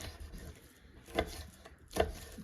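A knife cuts sinew and gristle from deer meat on a board. Two distinct chopping knocks stand out among quieter slicing and rubbing sounds, close and fairly faint.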